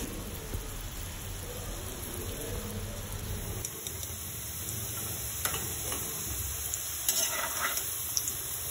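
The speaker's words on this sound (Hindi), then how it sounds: "पहले हम आलू को फ्राई कर लेंगे" Potatoes frying in a pan for gobhi masala, a dense, continuous crackling sizzle heard up close with occasional stirring touches, steady throughout and without speech.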